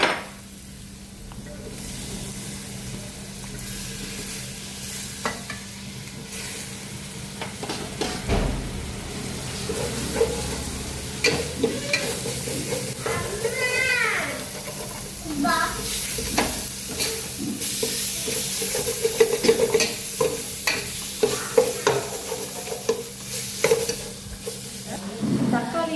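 Coriander powder, chilli powder and tomatoes sautéing in a pan for a drumstick chicken curry, a continuous close sizzle with frequent spoon stirring and scraping against the pan, no talk.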